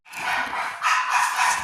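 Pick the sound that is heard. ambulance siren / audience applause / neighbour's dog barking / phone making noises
neighbour's dog barking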